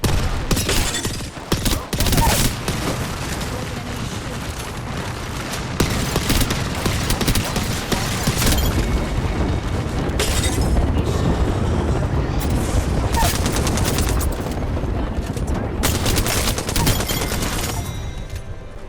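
Dense, loud gunfire in a battle-royale video game played on a budget PC, with continuous rapid bursts and booming impacts layered over each other for the whole stretch, and faint voice callouts now and then.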